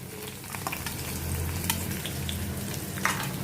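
Chopped onion frying in a pan for paneer kofta gravy gives a steady, close sizzle with a low background rumble and occasional faint clinks, with no voices.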